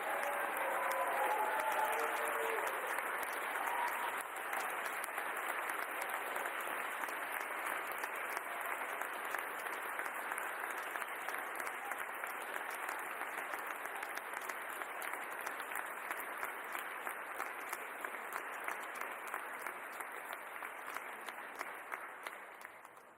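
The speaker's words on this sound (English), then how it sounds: "let's have a round of applause for all the prize recipients" A crowd at an honors day ceremony applauds prize recipients, a dense sustained wash of many hands clapping at moderate distance that holds steady for over twenty seconds before thinning slightly at the end.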